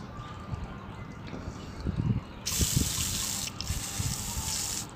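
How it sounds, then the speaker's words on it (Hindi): Water spraying from an improvised sprayer screwed onto a Pepsi cola bottle, used to wash plants; a steady hiss of spray begins midway and runs continuously, close and fairly loud, with no talking. "पेप्सी की कोला की बोतल में आप लगा लो और इस तरह से इस पर फोर्स लगा के"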